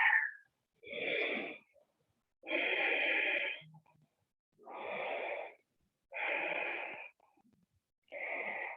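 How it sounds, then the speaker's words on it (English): Heavy breathing during an upper-body strength yoga flow: six slow, rhythmic, close-up breaths with long airy inhales and exhales separated by short silences, no talking. "And breathe."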